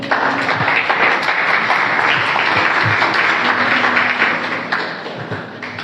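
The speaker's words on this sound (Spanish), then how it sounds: "dele un aplauso a Dios" A church congregation gives loud, sustained applause after a sermon reading, with full clapping throughout that thins slightly near the end.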